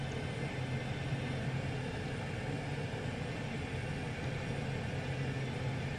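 A Pilatus PC6 aircraft flying a circuit around Dunkeswell airfield, heard as a steady, unbroken engine drone and rumble from inside the cabin, loud and constant for the whole stretch.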